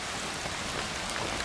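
Heavy rain pours down steadily at Malanzai waterfall in Kangpokpi, Manipur, a dense, even hiss of drops hitting the surface throughout, with no voices.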